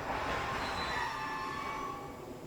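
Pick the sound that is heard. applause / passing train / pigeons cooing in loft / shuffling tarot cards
passing train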